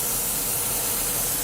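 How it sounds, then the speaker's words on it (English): Continuous hiss of paint spraying from an airbrush or can onto a primed 1/32 Wing Nut Wings Sopwith Triplane model, a steady close airy rush with no pauses. "we're just going to spray this on to really see what we get first"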